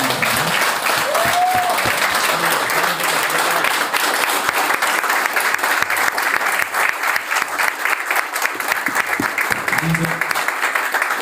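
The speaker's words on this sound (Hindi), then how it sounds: "एक बार सर के लिए जोरदार क्लैपिंग" Audience at a live seminar session breaking into loud, sustained applause, dense continuous clapping that fills the hall for the whole stretch, with a few faint voices mixed in.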